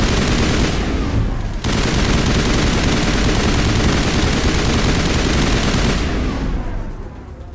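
Rapid gunfire from a weapon in Mass Effect Legendary Edition forms a loud, continuous burst that barely pauses. It roars for several seconds before tapering off.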